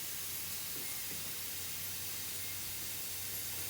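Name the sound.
car fuel injector spraying fuel under pressure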